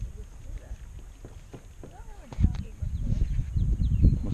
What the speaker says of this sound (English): Paddle against the side.